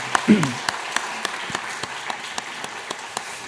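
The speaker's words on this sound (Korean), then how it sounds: "잘 오셔서 박수로 환영하시겠습니다." A church congregation claps in welcome for a visiting family during Sunday worship, the claps scattered and fairly soft with distinct individual hits. A voice sounds briefly at the start.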